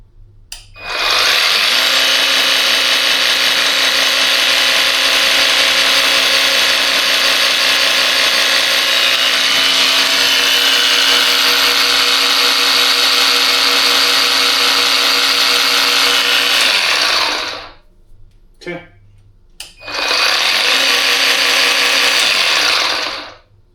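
An Ozito 36V cordless cultivator runs loud and close in a garage, a steady high-pitched motor whine held for about sixteen seconds, cutting out briefly, then starting up again.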